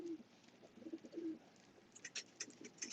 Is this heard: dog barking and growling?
no